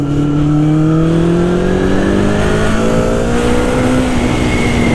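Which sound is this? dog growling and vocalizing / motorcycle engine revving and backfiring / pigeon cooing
motorcycle engine revving and backfiring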